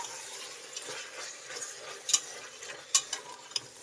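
Slit green chillies stirred in a frying pan with turmeric for tomato pulao, giving a steady soft sizzle broken by a few sharp scrapes and clinks of the spoon against the pan.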